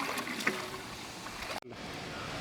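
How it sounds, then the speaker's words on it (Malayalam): Water boiling in a large pot for mutton majboos, a low, steady bubbling wash that runs continuously with a brief clunk and a moment of dropout near the end, no talking. "അപ്പോൾ വെള്ളം തിളച്ചു."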